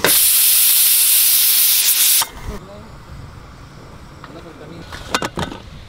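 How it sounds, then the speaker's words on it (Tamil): Pressure cooker cooking mutton lets out a loud, close hissing steam whistle for about two seconds, then cuts off abruptly, leaving low background noise and a few faint knocks. "4 விசில் விட்டு எடுத்துக்கலாம்."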